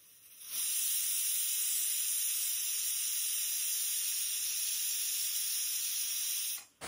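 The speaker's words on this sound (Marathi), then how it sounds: "दोन्ही मी आता शिजवायला कुकरमध्ये ठेवणार आहे" A pressure cooker steams varai rice and jackfruit bulbs in water. It gives a steady, loud hiss that starts abruptly, holds for about six seconds and then cuts off, with no voices.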